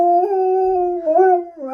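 A Czechoslovakian Vlcak wolfdog howls up close, one long sustained tonal howl that wavers in pitch and lifts again near the end, clear and alone indoors.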